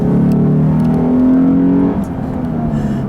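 2017 Lexus IS350 AWD engine accelerating, a strong rising hum that climbs in pitch, dips briefly around a gear change, then pulls again, heard from inside the car.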